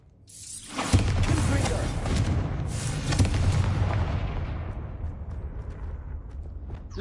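Confringo fire-blast spell from the Hogwarts Legacy video game, a single loud, close explosive boom with a heavy low rumble that decays slowly over several seconds.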